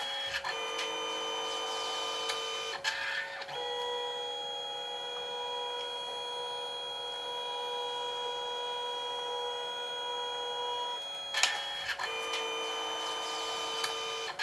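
A Canon SELPHY CP1300 compact photo printer whirs steadily with a high mechanical tone, pausing briefly twice as the paper shifts between passes; close and continuous, no talking.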